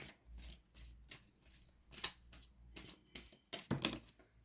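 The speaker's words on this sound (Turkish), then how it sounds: "Sevgili balıklar sizler için 5 kart daha çekelim." A deck of tarot cards shuffled by hand, quiet and close, in repeated bursts of riffling and sliding cards with short pauses between, no talking.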